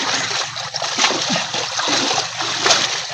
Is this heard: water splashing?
yes